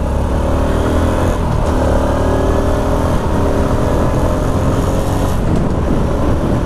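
A 2020 Honda RS 125 FI motorcycle engine drones continuously on a road test ride, a loud, steady mid-pitched hum with slight rises in revs and constant wind rush, no talking.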